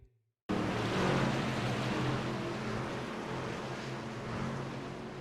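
Race truck engines from an NECRL Truck League event roar loudly and steadily as the trucks approach, a dense continuous drone with harmonic engine tones, with no talk over it.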